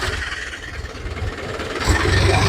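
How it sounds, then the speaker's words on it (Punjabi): A New Holland 85NH tractor with ploughs attached runs its engine in a steady low rumble, growing slightly louder and fuller toward the end, heard close with no talk. "ਟਰੈਕਟਰ ਦੀ ਮਾਸ਼ਾਅੱਲਾ ਕੀ ਆਵਾਜ਼ ਆਵੇ, ਪਿਆਰਾ ਵਾ।"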